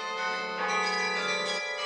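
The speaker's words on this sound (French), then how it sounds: "Le son des cloches, c'est la musique qui a bercé son enfance." Church bells ring with sustained, overlapping tones that hold steady throughout. The resonant ringing is continuous, with no voices.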